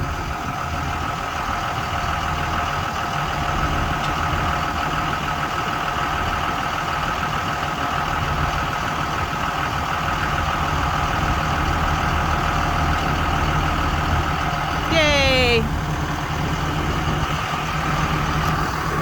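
A Ford F750XL service truck with a folding crane idles steadily, a loud, even diesel rumble that continues unchanged throughout, with one brief higher-pitched sweep near the end.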